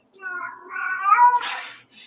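House cat giving one drawn-out, rising meow, close and clear, ending in a short second cry.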